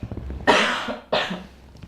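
Dan, a man, gives two harsh, throaty coughs in quick succession, close and loud, each trailing off before the next.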